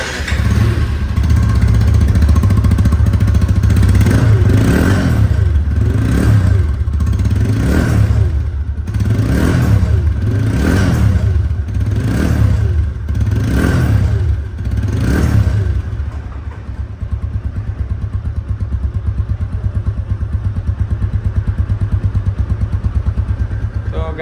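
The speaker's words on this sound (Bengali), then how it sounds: "গাড়িটির সাউন্ড শুনলে আপনারা বুঝতে পারবেন যে গাড়িটির ইঞ্জিন কোয়ালিটি এবং সাউন্ড কোয়ালিটি" A 2023 TVS Apache RTR 160 2V motorcycle engine idles and revs repeatedly in rhythmic bursts, rising and falling about a dozen times, then settles into a steady idle.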